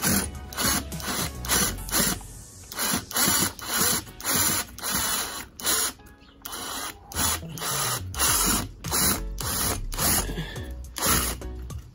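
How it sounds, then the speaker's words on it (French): A screwdriver pressed through a rubber band works a stripped screw loose in a quick, regular series of short grinding, squeaking turns, close and fairly loud. "On prend un élastique assez gros, en capacité de pouvoir rentrer dans la vis, et on dévisse."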